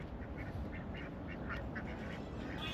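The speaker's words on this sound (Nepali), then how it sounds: "यो के हो यो पानी हाँस हो ए पानी हाँस रहेछ" Ducks quack several times in quick succession at a large lake, moderately close, over a steady background hiss.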